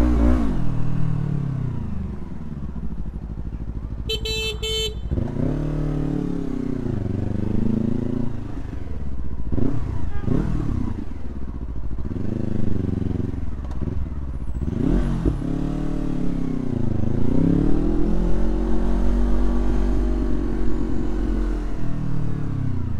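A motorcycle engine runs steadily close by, its pitch rising and falling through repeated revs and gear changes across the whole stretch, with a brief clatter of noise early on.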